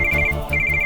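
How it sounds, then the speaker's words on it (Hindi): A telephone rings with a loud electronic trill, two bursts of rapid warbling tone separated by a brief gap, heard up close over a low background hum. "नैना फोन उठा बेटा।"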